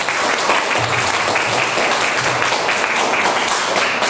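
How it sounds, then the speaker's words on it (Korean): Audience applause closing a 2016 youth forum in a hall, a dense, even burst of many hands clapping that sustains loudly for several seconds without talk. "박수!"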